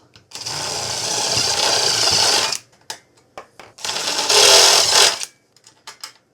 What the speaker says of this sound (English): Drill a hole. Widen a hole.